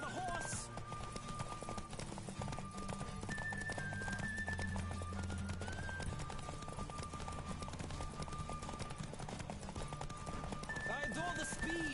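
Rapid hoofbeats of a galloping horse in The Witcher 3 clip-clop steadily throughout, layered over sustained tonal game music and a dense background.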